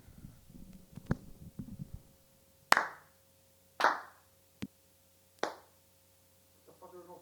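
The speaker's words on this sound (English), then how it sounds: "we're gonna do a clap sync again." Some murmured talk, then three loud, sharp hand claps a second apart with a smaller knock between, close and distinct, before a faint voice returns.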